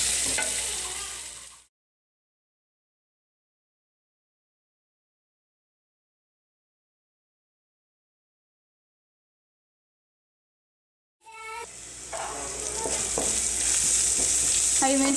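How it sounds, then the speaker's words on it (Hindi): Green chillies fry in oil in a pan with a busy, crackling sizzle and stirring scrapes, cut off briefly at the start and then resuming for several seconds after a long stretch of silence. "हरी मिर्ची हमने थोड़ी देर इसमें फ्राई कर ली है।"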